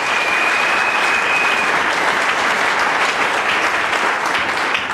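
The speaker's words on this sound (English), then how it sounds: "Can we clap for Jesus?" A church congregation at a deliverance service claps together in steady, sustained applause that fills the room, loud and even throughout.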